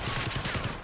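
Rapid automatic gunfire from a battle royale shooter game rattles in a fast, loud burst of evenly spaced shots, close and dense.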